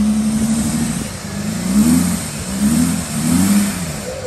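Audi A6 V6 TDI quattro diesel engine revving in repeated rising-and-falling bursts, close and steady, with a rough low-pitched drone and no talking.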